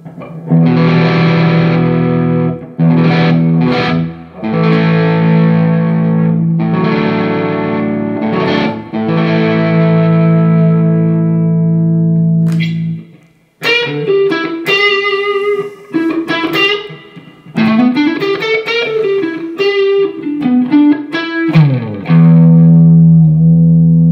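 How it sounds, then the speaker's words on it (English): A guitar run straight into an amplifier's natural overdriven gain, with no effects pedal engaged: loud sustained chords ring out, then a stretch of sharper single-note lines and bends, ending on held chords. "I'm going to give you some of the natural gain tones from this amplifier at the minute."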